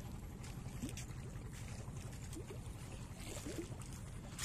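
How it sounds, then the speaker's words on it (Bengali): A fishing trawler pulls in on the Padma river, its engine a steady, dense drone with water washing around it throughout, close and continuous with no talk. "মাছ শিকার করে আরেকটি ট্রলার এসে থামছে এখানে"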